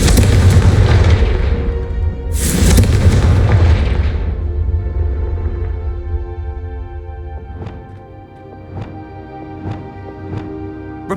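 Confringo fire spell in Hogwarts Legacy blasting candelabras, two loud booming bursts with a fiery rumble that fades, then a series of sharp, regularly spaced cracks or clinks as debris settles.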